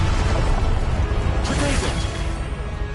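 Spell effects from the Hogwarts Legacy video game, Confringo and Expelliarmus being cast, giving a dense crackling, whooshing burst that flares in the middle over steady game noise.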